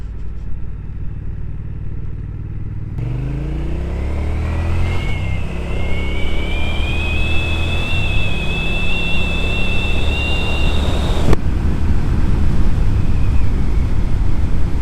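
A 2025 Triumph Speed Twin 1200 motorcycle pulls hard while being ridden, its engine droning loud and close with rising revs and a climbing whine through the gears, mixed with steady wind rush.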